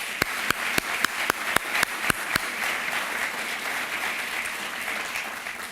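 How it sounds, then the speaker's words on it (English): A crowd applauds at a groundbreaking ceremony for a veterans village, sharp separate claps at first that swell into a steady wash of clapping, moderately loud and close. "let's give them another round of applause"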